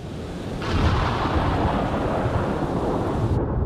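Deep rolling thunder from a storm beginning in a video game swells in after a brief quiet and rumbles loudly and steadily with a rain-like hiss before cutting off abruptly.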